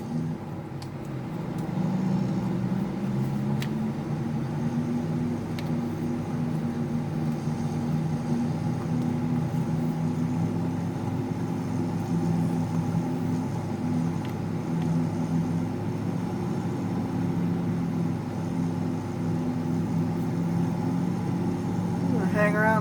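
Tractor engine running steadily in sixth gear at about 53, a continuous low droning hum with a slight pitch wobble, close and constant throughout with no talking.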